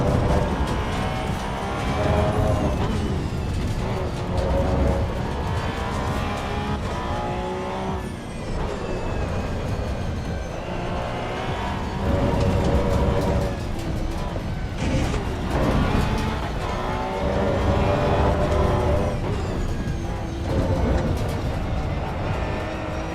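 A Cup car in a racing video game, its straight-cut gears grinding with a steady whine over engine drone that runs through the whole stretch, with a person talking over it.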